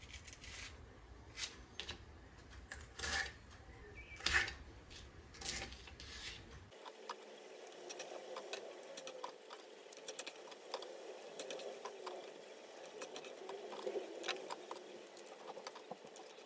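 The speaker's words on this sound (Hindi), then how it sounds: "इस तरह इसको सेंटर में से काट के तो छोटे पीसेस कर लें।" Okra pods being sliced through the center into small pieces with a knife, giving soft, quiet cutting and patter sounds, mostly close and steady, with no talking.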